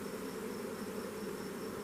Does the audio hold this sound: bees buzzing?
yes